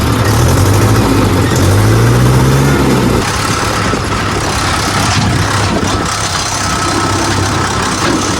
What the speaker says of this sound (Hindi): चलो गाइस तो चलते हैं बिना देर के अपना ट्रैक्टर लेके सीधा।